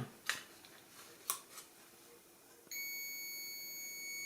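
A few faint clicks from contacts on a push button are followed by a continuity tester's steady, high electronic beep that starts suddenly and holds on, nearby in a quiet room.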